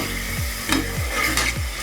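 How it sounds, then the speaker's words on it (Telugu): Slit green chillies frying in oil in a pan, a close, fairly loud steady sizzle with a couple of sharp crackles and spoon touches over a short stretch. "అలాగే నిలువుగా కట్ చేసుకున్న 2 పచ్చిమిర్చిని కూడా వేసుకుని ఫ్రై చేసుకుందాం."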